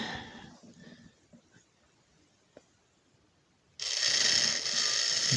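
Faint mechanical ticking and clicks give way to a loud, steady whirring rattle as a small Matchbox Powertrack toy train runs along its track.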